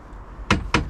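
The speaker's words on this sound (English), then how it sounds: "that takes us into the cockpit, as I say, through this little cockpit door" The small cockpit door on a 2003 Sea Ray 315 boat makes two sharp, close knocking clunks about a quarter second apart, against a quiet background.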